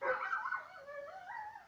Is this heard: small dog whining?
yes